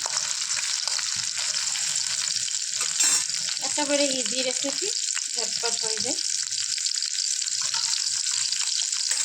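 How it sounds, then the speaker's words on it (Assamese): Steady loud sizzling of chopped garlic and chillies frying in hot oil throughout, with a person speaking briefly over it in the middle. "এইখিনি অকণমান লৰাই চৰাই ভাজি ল'ম ধুনীয়াকৈ"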